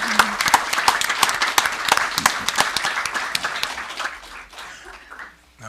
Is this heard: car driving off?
no